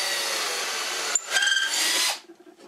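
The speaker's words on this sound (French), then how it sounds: "Ce qu'on fait, c'est que je perce." A power drill bores a dowel hole through a Jessem doweling jig into wood, a short close whine that bites in mid-burst and then stops abruptly.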